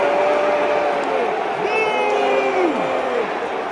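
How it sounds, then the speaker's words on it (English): A large arena crowd at WWE Raw roars continuously and loudly at Hulk Hogan, a dense wash of jeering voices with scattered shouts rising and falling throughout. "booing him throughout his announcement and finally out of the venue"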